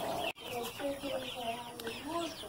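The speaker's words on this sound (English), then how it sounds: "he's trying to crow, and it's sounds pretty funny if you ever heard a young rooster crow" A young rooster gives a wobbly, unsteady attempt at a crow, thin and broken rather than full, close by with other chickens clucking in the background.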